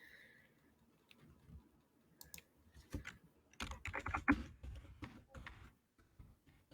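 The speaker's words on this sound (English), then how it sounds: "and I hear things typing" Keys clatter on a computer keyboard in short, uneven bursts, quiet at first and then a quick, close flurry of taps, with brief pauses between runs.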